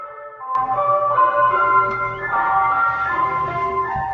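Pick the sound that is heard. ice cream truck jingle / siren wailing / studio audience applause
ice cream truck jingle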